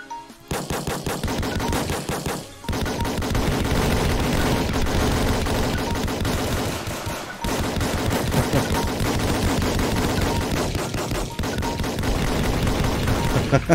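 Rapid gunfire rattles from a Roblox shooter game, loud and nearly continuous in long automatic bursts with brief gaps, dense enough to bury any voices.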